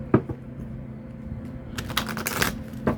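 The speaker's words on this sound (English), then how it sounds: "Okay, then we're going to shuffle again." Tarot cards are shuffled by hand in quick riffling bursts, with a soft tap near the start and a denser run of crisp snapping in the second half, all close and without talk.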